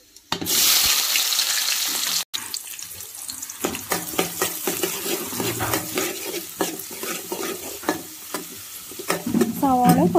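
Sardines frying in a pan at home, a loud hiss at first, then crackling and spitting with clinks, scraping and splashing water running behind it.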